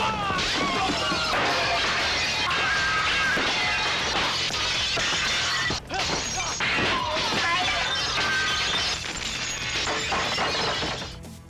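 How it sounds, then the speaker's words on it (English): Glass smashes over and over in a 1980s film fight scene set in a Hong Kong shopping mall, the Wing On Center. The crashes and shattering come loud and close, in dense bursts that run almost without a break. "The fighters destroy much of the mall's property, especially its glass."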